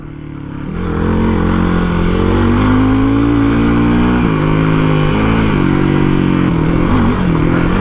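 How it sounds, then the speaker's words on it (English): Hero XPulse 230 motorcycle engine droning steadily while riding with a rally kit, a loud continuous hum that rises and wavers slightly with throttle changes, close and without speech. "sitting on the bike and riding with this rally kit is also very easy"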